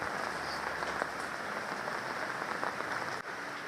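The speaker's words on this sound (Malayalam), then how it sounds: "എന്ത് മഴയാണ് എന്റെ പൊന്നെ" Heavy rain pours down continuously in a dense, even patter like applause on nearby surfaces, fairly faint overall with a brief dip near the end and no voices.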